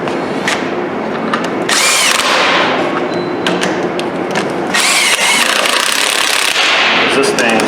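An Earthquake impact wrench runs down an axle nut on a 2005 Dodge diesel truck, firing loud, close bursts of rapid hammering separated by short pauses, with a few thumps, and no talk.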